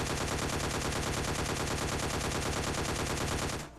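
Sustained automatic gunfire in the mobile shooter game Scarfall 2.0, a dense, loud, rapid stream of shots lasting several seconds before stopping abruptly.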